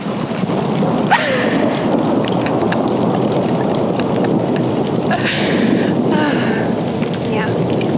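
Steady rain falls hard on surfaces while thunder rumbles after lightning, the storm continuous with a couple of stronger crackling bursts.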